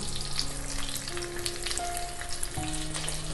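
Pre-boiled potatoes with a pinch of salt fry in a pan for Bengali alur dum, giving a steady, close sizzle that hisses continuously throughout with no voices.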